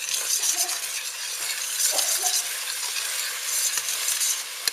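Meat sauce for macaroni with minced meat sizzles steadily in a frying pan as it is stirred, a close, continuous hiss broken by soft scrapes and clinks of the utensil.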